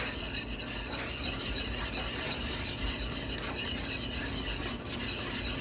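Food stirred in a pan on the stove while preparing a hamburger steak dinner: a continuous close scraping and faint sizzle with no clear individual strokes and no speech.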